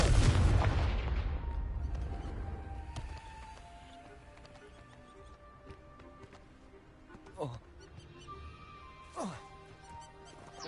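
In Hogwarts Legacy, a Confringo blast spell goes off with a loud, deep boom that slowly fades, followed by a couple of quick swooshing bursts over faint tonal game music.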